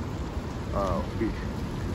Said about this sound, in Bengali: যেহেতু আজকে বৃষ্টি